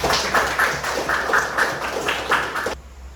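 Students in an Islamic religious education classroom clap together, a dense burst of fairly loud, fast hand claps with rhythmic accents that stops abruptly near the end.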